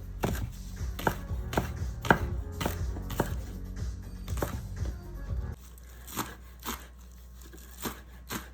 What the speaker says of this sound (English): I'm cutting up my green onion